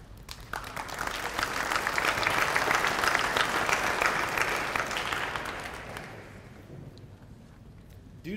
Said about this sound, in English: I'm going to ask everybody to hold your applause until we get everybody up here